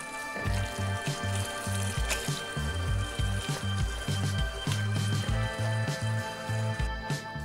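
A white kimono soaked through with hot water squishes wetly in a steady, repeated rhythm of soft, close-up presses and drips, with no voices.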